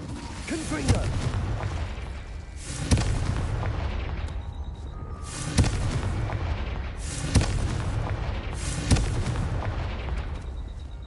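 Repeated explosive blasts of the Confringo spell in Hogwarts Legacy, a handful of loud booming bursts spaced a second or two apart over a dense, noisy game background, with a voice shouting between them.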